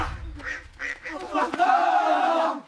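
A voice imitates a duck, producing a few nasal quacking calls followed by a longer drawn-out honk, close and fairly loud.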